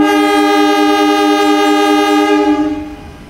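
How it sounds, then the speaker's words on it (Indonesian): The economy-class Serayu train pulling into Jatinegara station in Jakarta sounds its two-tone horn in one loud, sustained, close blast that fades away at the end. "kereta api Serayu Jakarta Purwokerto via Bandung Banjar masuk jalur 4 stasiun Jatinegara"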